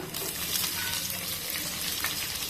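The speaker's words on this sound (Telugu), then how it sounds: "ఆనియన్స్ వేసుకొని బాగా ఫ్రై చేసుకోవాలి." Onions frying in a pan for bendakaya fry, a continuous dense sizzle with faint stirring, no talking.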